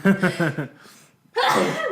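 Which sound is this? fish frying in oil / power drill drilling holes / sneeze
sneeze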